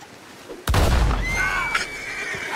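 A horse whinnies in Red Dead Redemption 2 just after a sharp bang, its call rising and trailing off in the open air without talk.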